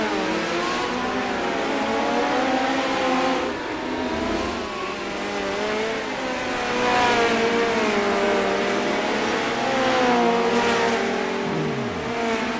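Midget race cars run hot laps on the Limaland dirt oval, several engines revving and howling continuously, rising and falling as the cars pass, with a brief tire squeal near the end.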